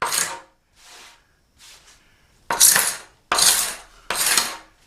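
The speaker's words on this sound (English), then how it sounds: "you can hear the glue spots coming out of the joint areas" Dried glue spots being scraped out of the joints of a wooden kitchen tabletop, heard as short rasping strokes: a few lighter scrapes first, then three loud, broad scrapes close by, with no talk.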